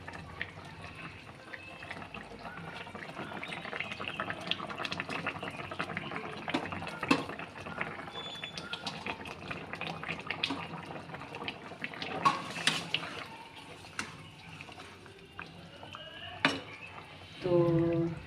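Pieces of rui fish go into a pot of simmering Bengali-style curry with potatoes, bringing soft clinks of a utensil against metal, gentle watery stirring and faint kitchen clatter.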